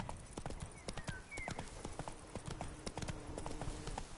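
Geralt's horse Roach gallops in The Witcher 3: Blood and Wine, a quiet, steady clip-clop of hooves under faint background game sound.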